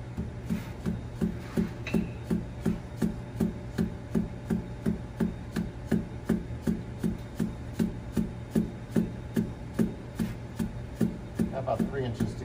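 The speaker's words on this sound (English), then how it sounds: "Use that hammer, and yeah, you can use like the butt end of the hammer" Steady, regular knocking taps of a hammer butt driving a piston down into a Detroit Diesel 6-71 engine, about two per second, repeated for the whole stretch. Each tap is a dull, moderate hit over a low background hum.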